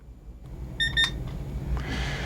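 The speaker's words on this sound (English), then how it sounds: "And we set the timer for 2 minutes." A kitchen-style timer set for two minutes in a dental office while an impression tray sets gives a quick run of short, high electronic beeps over a steady low room hum.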